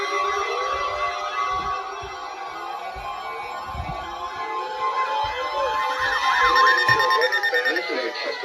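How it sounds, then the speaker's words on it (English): Weather radio warning alarm test tone from a National Weather Service station serving the Mahoning Valley of northeast inland Ohio, a steady loud electronic tone with warbling overtones held throughout, with faint low thumps beneath. "This is a test of the National Weather Service weather radio warning alarm for WWG56 for the Mahoning Valley listening area of northeast inland Ohio."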